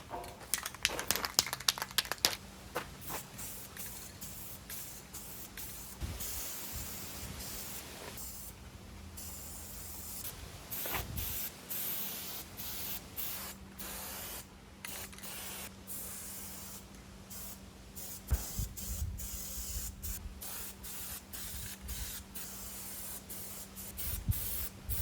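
Aerosol spray paint hisses in short and long bursts onto a welded steel utility trailer basket, steady and close, with a faint constant hum underneath and brief pauses between passes.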